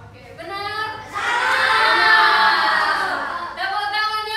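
Schoolchildren in a classroom burst into loud cheering and clapping after answering a maths question, a sustained roar of young voices that rises, holds, then fades back as a teacher's talk resumes.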